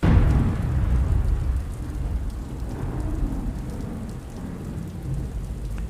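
Heavy, steady downpour with rolling thunder rumbling low beneath it, a dense continuous roar that stays loud throughout with no voices.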